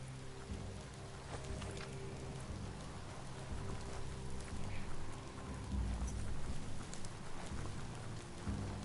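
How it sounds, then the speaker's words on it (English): Steady rain in the video game Biomutant, a dense hiss of falling drops with low rumbling underneath, continuous and fairly loud throughout. "Might as well just dive in that rain and get wet."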